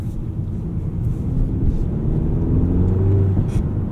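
A 2024 Hyundai Sonata N Line with its 2.5 liter engine drives along, a steady loud low rumble of engine and road noise with a slight rise in pitch toward the end and no talking.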